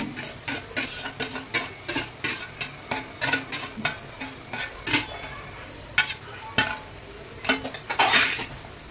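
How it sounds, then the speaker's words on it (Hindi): Mashed eggplant and tomato fry in oil while a utensil stirs briskly, scraping and clinking against the pan in a steady rhythm over soft sizzling. "इसी तेल में मतलब भून लेना है थोड़ा सा।"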